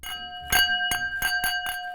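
An ordinary non-crystal drinking glass is tapped five or six times in a steady rhythm, each strike giving a bright clink with a lingering ringing tone.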